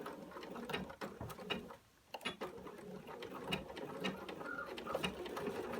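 Sewing machine stitching the front pocket of denim jeans, a steady close mechanical whir with ticking needle strokes and one brief pause partway through.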